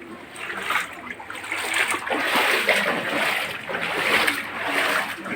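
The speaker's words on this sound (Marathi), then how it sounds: "आपण चालतो एवढ्या पाण्यातून" Steady splashing of water as someone wades through shallow floodwater flooding a residential lane and house doorways, continuous sloshing close by with no talking.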